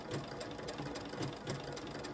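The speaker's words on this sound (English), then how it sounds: "we're sewing along. I'm trying to stay close to the edge." A quiet, steady sewing machine stitches along the edge of a fabric brooch, its motor humming with a soft rhythmic pulse throughout.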